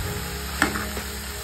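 Hot water poured into a pan of cooking whole masoor lentils sets off a brief burst of sizzling and bubbling, peaking sharply once before settling back to a low simmering hiss.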